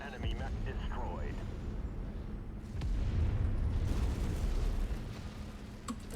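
An enemy mech is destroyed in the MechWarrior 5 video game, giving a deep, rumbling explosion with low booming that swells midway, set against continuous battle noise.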